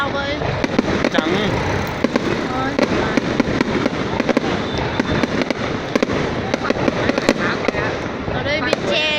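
Fireworks bursting near a bridge during a New Year celebration, a dense stream of sharp cracks and booms over a heavy crowd roar with wind buffeting the microphone, loud and continuous.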